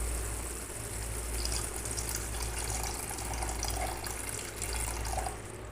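Water is poured into frying masala in a pan for a Bengali fish curry, producing a steady, gushing hiss and bubbling that continues throughout at moderate volume.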